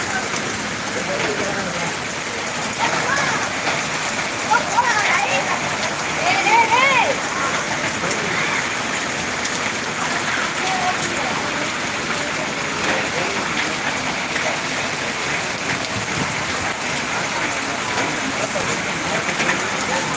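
Steady rain falling in Ariyalur, a dense continuous hiss of drops on surfaces close by, unbroken throughout, with faint voices in the background now and then.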